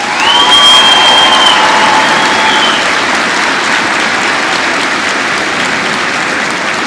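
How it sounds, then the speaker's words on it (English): Loud, sustained applause with some cheering rises from a high school graduation crowd, steady throughout and gradually thinning toward the end. "Please give them a round of applause."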